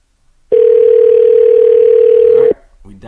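A telephone dial tone heard up close as a call is placed, a loud steady unbroken hum lasting about two seconds that stops abruptly, followed by faint voices.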